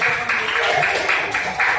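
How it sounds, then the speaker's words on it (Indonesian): A fourth-grade class claps for the Idris group in a dense burst of applause from many children, with voices mixed in throughout. "Tepuk tangan untuk kelompok Idris sudah"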